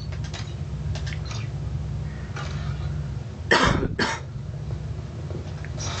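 A person coughs twice in quick succession, loud and close, against a steady low background hum, with no talking during the clip.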